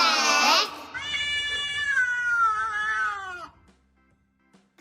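A cartoon cat gives one long, drawn-out meow lasting a few seconds, clear and close, after a brief bright burst, then the sound fades to near silence.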